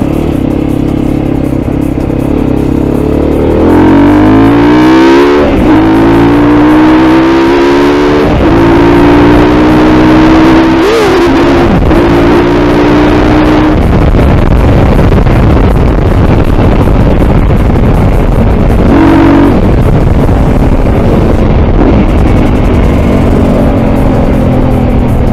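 A Mondial Rx3i Evo motorcycle revs and accelerates through rising gear changes, its loud engine climbing in pitch several times before easing off, with wind buffeting throughout.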